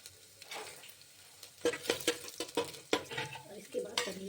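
Ginger and garlic with a pinch of asafoetida fry in a pan, stirred with a utensil: a soft sizzle under a string of sharp scraping and clinking strokes, irregular and close by.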